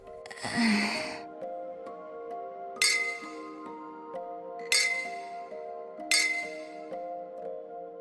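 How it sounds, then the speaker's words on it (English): Glass bottles clink in a visual novel scene, a rustling burst at the start followed by three separate bright clinks spaced a few seconds apart over a soft, steady musical background. "Only the clinking of glass bottles fills the air."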